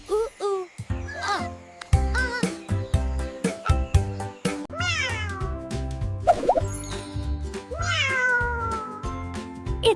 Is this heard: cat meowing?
yes